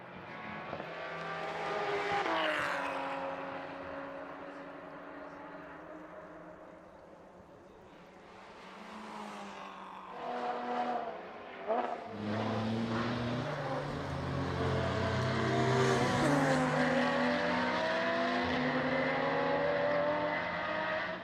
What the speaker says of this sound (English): racing is resumed between number 15 Seat and number 4 Porsche once again